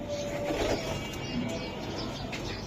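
Racing pigeons coo softly among ambient room noise, with a few low murmuring calls and faint chirps; no one speaks.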